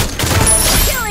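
Burst of gunfire in the battle-royale game Free Fire during a solo ranked match, a dense rapid volley of shots lasting about a second, loud and close, with a player's voice over it.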